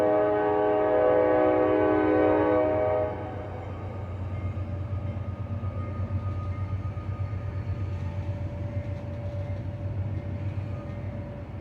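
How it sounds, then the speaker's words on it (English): A train passes beside a house next to the tracks, its horn blaring for a few seconds before giving way to a long, steady rumble of rolling cars. "Don't mind the train going by."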